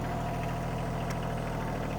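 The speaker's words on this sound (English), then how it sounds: "What are you running the tractor at, RPM?" A tractor engine runs steadily at about 1400 RPM, powering a Fuelwood Kindlet 200 firewood processor, a loud, even idling drone with a low rhythmic pulse and no talk over it.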